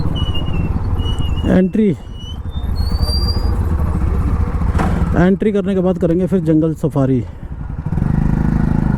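A Hero Xtreme 125R motorcycle engine drones steadily and loudly while being ridden on the way to Pandupol temple, with someone talking over it.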